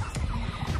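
Chickens or turkeys gathering in a pasture paddock at feeding time give a close, steady mix of low clucks and murmurs that continues for under a second.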